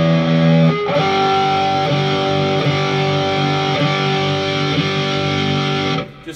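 A Coyle Custom Strat electric guitar with a baseball-bat neck plays through an amp with the gain boost switched off, giving clean sustained chords struck about once a second, steady and close, with no talking.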